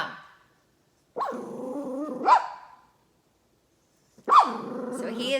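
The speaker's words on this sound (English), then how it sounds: "there's the dog freaking out" A worried dog barks and growls in two agitated bursts separated by a pause, close and loud, set off by a passing truck.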